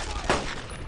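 A single sharp burst of gunfire in the World War II shooter Brothers in Arms: Road to Hill 30, a loud crack with a short rumbling tail over a steady background.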